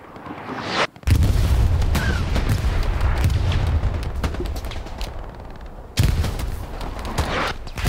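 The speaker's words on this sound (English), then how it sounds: "LW artillery" Artillery fire in a Foy night match of a World War II shooter game, heavy booming blasts with rolling rumble, loud and close, two sharp onsets separated by sustained battle noise.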